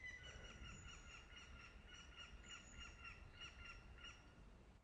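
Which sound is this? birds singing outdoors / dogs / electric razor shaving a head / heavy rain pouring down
birds singing outdoors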